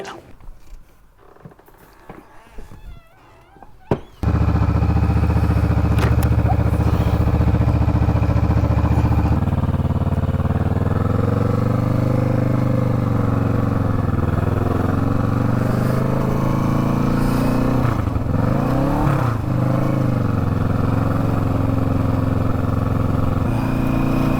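After a few seconds of quiet shuffling, a Kawasaki Vulcan S 650 motorcycle engine starts close by and runs loud and steady, with a rumbling idle and brief throttle swells.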